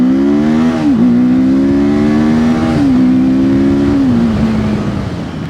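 A TVS Apache RTR 310 motorcycle accelerates hard on the open road, its engine droning loud and close with steady rising tones broken by several gear shifts.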